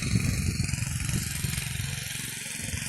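A tractor engine runs in an open field, a close, continuous low chugging drone with a rapid pulsing beat and slight wavering in level, alone with no voices.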